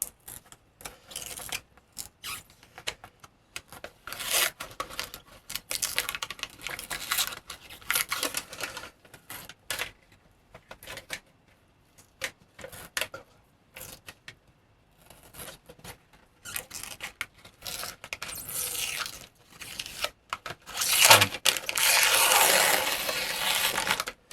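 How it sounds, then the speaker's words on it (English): Backing paper is peeled off a sticker sheet in close, crinkly bursts of tearing and crackling with short pauses between, ending in a louder, sustained rip. "See if I can figure out how to peel this paper."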